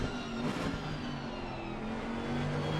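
GT3 and GT4 race cars howl around Kyalami in a sim racing game, a continuous loud engine drone with shifting pitch as the cars hold speed through a corner.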